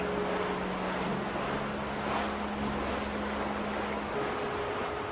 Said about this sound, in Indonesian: Angin badainya semakin kencang.